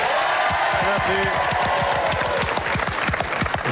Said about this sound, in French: Quelques applaudissements pour l'équipe bleue.